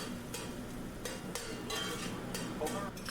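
Chopped garlic sizzling in oil as it browns in a pan for a string beans and potato dish, a steady close hiss with a few louder crackling bursts and faint utensil scrapes.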